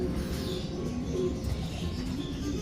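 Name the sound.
racing pigeons cooing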